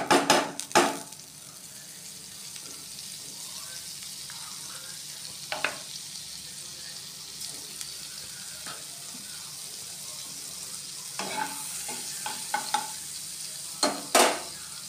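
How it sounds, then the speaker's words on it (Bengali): Butter sizzling in a kadai for butter paneer, a steady low hiss throughout with scattered sharp stirring clinks and scrapes near the beginning and end, no voices. "আরেকটু বাটার দিয়ে দেবো কড়াইয়ের মধ্যে"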